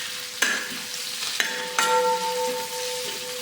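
Fresh curry leaves hit hot oil in a pan for a pickle, setting off a steady close sizzle with a few sharp crackling bursts and stirring scrapes, no talking.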